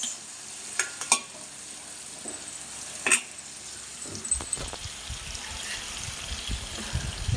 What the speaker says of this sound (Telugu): ఇట్లా చింతపండు గుజ్జు అయితే బాగా నూనెలో గట్టి పెడదాకా ఉడకబెడదాం ఫ్రెండ్స్